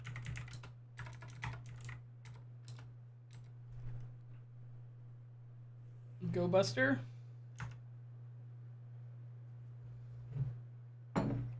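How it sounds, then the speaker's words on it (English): Computer keyboard typing at a desk during a live hacking and coding session: bursts of quick close key clicks come and go over a steady low hum, with a short spoken phrase partway through. "I guess I'll just have to keep typing."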